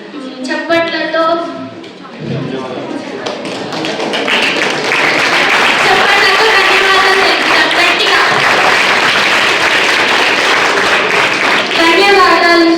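Clapping from a school audience at a police-led social awareness event in a Jadcherla high school builds after a voice and holds as a dense, steady patter for several seconds before speech returns at the end.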